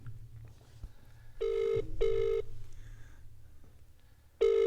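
A telephone rings out on an unanswered call, giving three bright electronic ring bursts with short gaps and a longer pause before the third, over quiet room noise.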